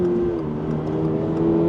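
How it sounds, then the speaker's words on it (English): A Toyota-Subaru sports car engine pulls steadily under acceleration, a continuous close drone with even, sustained tone and no one speaking. "but now the car pulls linearly"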